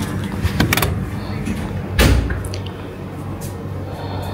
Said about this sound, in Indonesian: Tutup pintu semula.